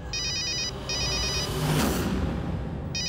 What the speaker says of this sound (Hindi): ये फोन की आवाज तो ऊपर से आ रही है